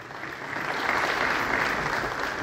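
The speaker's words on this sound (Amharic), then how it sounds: "ወደ ዳዊታችን ሰዓት እስቲ ሞቅ ባለ ጭብጨባ" Warm applause at a book launch: a steady wash of many hands clapping, moderately loud and continuous, with no speech over it.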